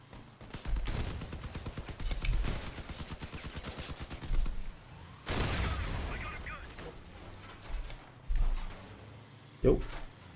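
Rapid automatic gunfire in the vehicle combat game Crossout rattles in quick repeated bursts, followed by a few heavier isolated shots. Someone talks over parts of it.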